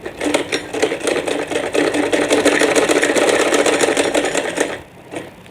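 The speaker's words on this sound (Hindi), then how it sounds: "तिरछी सिलाई लगाएंगे। यहाँ से डबल लॉक करेंगे।" A sewing machine stitches a boat neck kurta with a fast, even clatter of needle strokes, close and loud, running steadily before stopping near the end.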